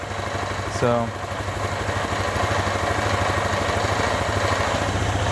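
A Vespa ET4 scooter engine idles with a steady low putter after reassembly of its fuel system and air filter, and a brief rising mechanical whine near the start; someone speaks a word.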